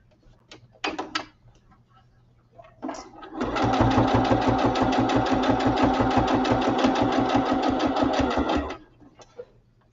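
A sewing machine stitches fabric in a fast, steady, rhythmic whir for about five seconds, loud and close, after a few brief knocks and handling noises at the start.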